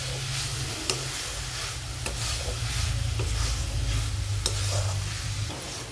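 Sweet coconut karanji filling with crushed cashews, almonds and cardamom powder is stirred in a pan, giving soft regular scrapes over a low sizzle that goes on steadily without any talking.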